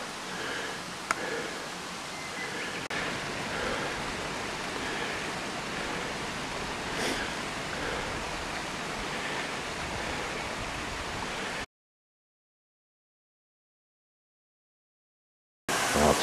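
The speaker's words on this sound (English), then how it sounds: "Here a large flood control dam." Broad, steady rush of water at a large flood control dam in Japan, a constant roaring wash that holds level for most of the span, breaks into silence, then resumes briefly.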